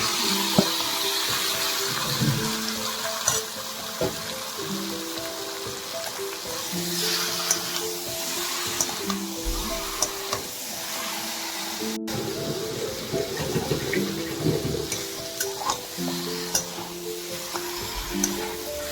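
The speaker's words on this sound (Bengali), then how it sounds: "এবারে ম্যারিনেট করে রাখা চিকেনটা আমি কড়াতে ঢেলে দিচ্ছি" Marinated chicken poured into a hot wok (kadai) over softened onions and tomato sizzles loudly and steadily while being stirred, with scraping clinks and bursts of frying throughout.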